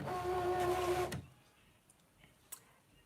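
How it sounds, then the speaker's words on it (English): ScanNCut cutting machine cutting fabric, a steady mechanical whirring hum that runs for about a second and then stops, followed by near silence with a few faint clicks. "Lynn Gaskell, is that vinyl or fabric you're cutting?"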